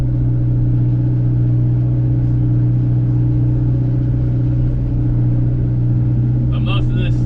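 A skid loader engine runs steadily up close while brush is burned and roots are raked, a loud continuous low rumble throughout with a brief higher rattle near the end.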